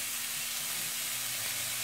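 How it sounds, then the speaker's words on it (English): Close, constant sizzling and hissing of burgers frying in a hot pan, with a faint low hum underneath. "I love that sound of sizzle."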